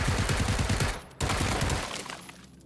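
Rapid automatic gunfire in PlayerUnknown's Battlegrounds, a loud close burst of shots, a brief pause, then another volley.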